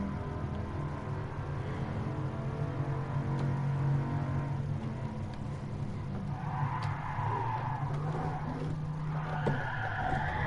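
Car in the Gran Turismo Sport video game, its tyres skidding in a handbrake drift during a daily online race: a steady, moderately loud engine hum with long, rising squeals of tyre scrub in the second half, no talk.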